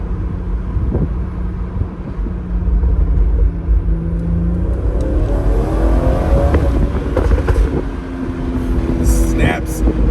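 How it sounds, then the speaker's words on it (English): BMW 440i with a catless downpipe exhaust accelerating on a drive, its engine rumble rising and falling through gear changes, with sharp snaps and cracks near the end and someone talking over it. "The snaps in those cracks are crazy. So much louder."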